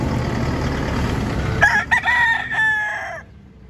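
A stag rooster on a chicken farm crows once, a loud close cock-a-doodle-doo lasting about a second and a half after a stretch of low background noise.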